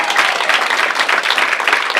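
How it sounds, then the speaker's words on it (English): A brief burst of audience applause at a stand-up comedy show, many hands clapping in a dense, even roar that stays steady for a couple of seconds. "Can we clap for them real quick?"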